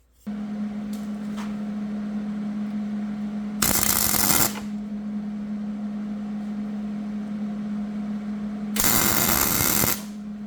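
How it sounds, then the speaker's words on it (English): Two short bursts of tack welding on the threads of a cracked cast iron Ford 300 exhaust manifold, each a harsh crackling hiss lasting about a second, separated by a steady electrical hum. "I need to put a tack on the bottom side to make sure that these threads stay"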